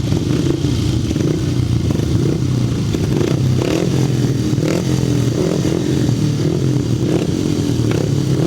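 Grasstrack racing motorcycles rev loudly and continuously at close range before a race, a dense, rough engine roar with rising and falling throttle bursts and some clatter throughout.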